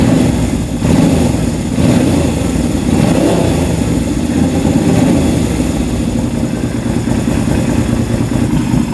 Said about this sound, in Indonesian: Jadi untuk suara motor ini kayak gini